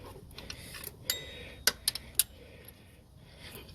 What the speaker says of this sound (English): I don't want to bore you guys with the turning of the wrench, loosening of the nut